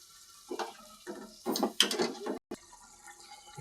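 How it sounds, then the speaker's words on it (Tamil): Water is poured into a cooking pot over sautéed ingredients, giving a short run of splashing and trickling in a few bursts, close and moderately quiet, with a brief clink of the pot. "தண்ணி தேவையான அளவு ஊற்றிக்கணும்."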